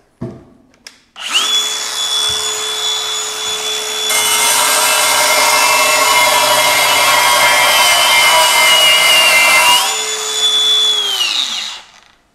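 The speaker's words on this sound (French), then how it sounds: "je vais directement attaquer avec la découpe de ce rail en métal" A Hilti AG 6D-22 angle grinder spins up and cuts through a metal rail, a loud sustained whine with bright harmonics that rises in intensity mid-cut, then winds down after about ten seconds.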